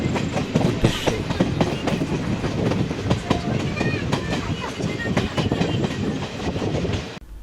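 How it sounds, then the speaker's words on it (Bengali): Passenger train rolling toward New Jalpaiguri station, a steady close rumble of carriages with rhythmic clickety-clack from the wheels, continuous throughout and dropping away at the very end. "ধীরে ধীরে আমাদের ট্রেন এগিয়ে চলল নিউ জলপাইগুড়ি স্টেশনের উদ্দেশ্যে।"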